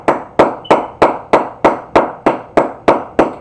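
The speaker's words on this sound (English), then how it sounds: "Let's go ahead and clap it up." A small group claps in a steady, even rhythm, about ten sharp, loud claps spaced evenly and close by, with no other sound under them.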